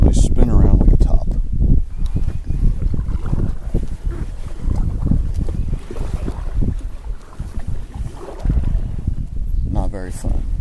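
A kayak fitted with a homemade rudder moves on water against a current, with loud, steady wind buffeting the microphone over a rough wash of water.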